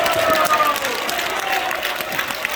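Steady, dense applause from a large audience at a rally launching a union of YouTube channels, loud and continuous for a couple of seconds with faint crowd noise mixed in.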